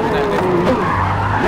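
A car drifting in Forza Motorsport, its tires squealing in a loud sustained screech over a droning engine, continuous and close throughout.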